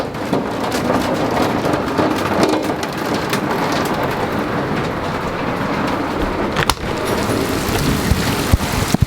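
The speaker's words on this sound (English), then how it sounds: "Well, we've got hail." Heavy rain and hail pour down during a thunderstorm at Harrison Lake State Park, a dense, steady hiss and patter holding at the same level throughout, with a few sharper hits near the end.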